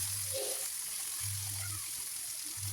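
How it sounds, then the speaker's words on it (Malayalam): Soft sizzling of masala-coated chicken frying in a pan, with a steady crackle and intermittent low humming tones underneath. "ചിക്കൻ മസാല വെച്ച് ഇനി അത് പൊരിക്കുക"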